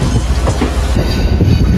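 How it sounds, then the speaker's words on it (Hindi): The Rajendra Nagar Tejas Rajdhani Express rushes past close by, a loud, continuous roar of rail wagons with rhythmic clattering wheels and a faint high squeal, and no voices. "बट ये है राजेंद्र नगर तेजस राजधानी एक्सप्रेस"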